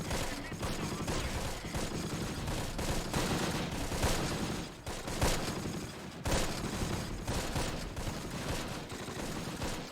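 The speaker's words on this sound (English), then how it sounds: "the support platoon lays down suppressive fire on the chateau" Dense suppressive gunfire in the war video game Close Combat: The Longest Day, a continuous crackling fusillade of overlapping shots with brief dips, loud and unbroken throughout.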